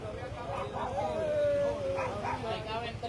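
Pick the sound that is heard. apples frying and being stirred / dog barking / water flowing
dog barking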